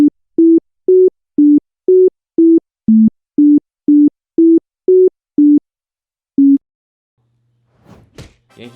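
The Yankee Doodle melody played as a string of about a dozen short, evenly spaced electronic tones that step up and down in pitch, loud and clean, then a pause and one last tone before faint rustling.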